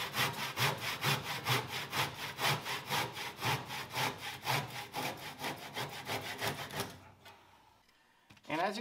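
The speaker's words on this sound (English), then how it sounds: "So we're just finishing cutting up the second side" Rhythmic back-and-forth strokes of a hand saw cutting wood for a triangle shelf, about two per second, close and steady, then stopping near the end.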